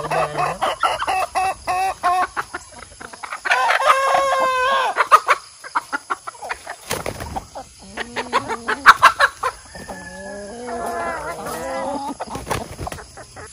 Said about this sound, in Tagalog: Yan na po yung ating mga alagang manok,